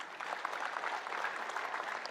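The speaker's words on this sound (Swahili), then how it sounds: "Kwa hivyo nataka kuintroduce Esther Pasari, mpigieni makofi." Faint, distant audience applause at a women's political gathering in Kieni, Nyeri, a steady patter of clapping hands throughout.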